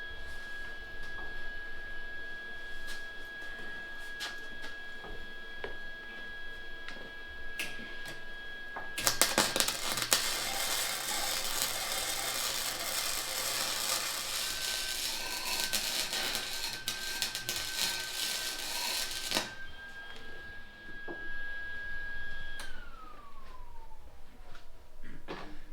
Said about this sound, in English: Got our tack welded on there.